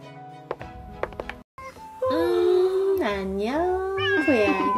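A cat meows repeatedly in a long, drawn-out, wavering call that rises and falls. A few light taps and thumps come before it, and a brief break falls between them.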